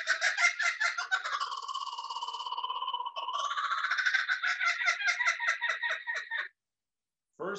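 A common kookaburra from Australia calls up close, unamplified. It gives a long, loud, rhythmic run of cackling, laughing hoots for about six seconds, goes quiet, then starts one more short burst.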